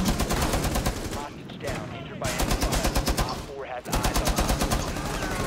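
Rapid bursts of automatic gunfire in a shooter video game ring out loud and close, with brief pauses between volleys as the rattling fire stops and restarts.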